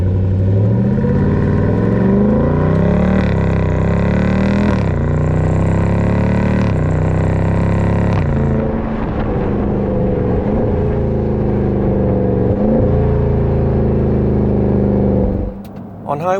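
A Dodge Durango SRT 392 V8 engine revs hard on a highway, a loud, deep rumbling roar that climbs and shifts through gears with sweeping pitch changes before dropping off abruptly near the end.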